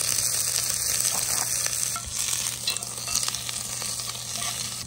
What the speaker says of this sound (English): Saute those onions.